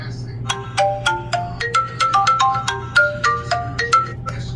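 A smartwatch's find-phone function sets a phone ringing nearby: a bright melodic ringtone plays a rapid sequence of rising and falling tones in repeated bursts, with some background noise underneath.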